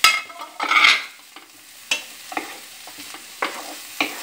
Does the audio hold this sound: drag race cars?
no